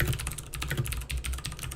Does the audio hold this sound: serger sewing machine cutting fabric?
no